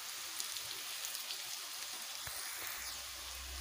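Potatoes and carrots frying together in a pan, giving a steady, close sizzle like light rain throughout, with no talking.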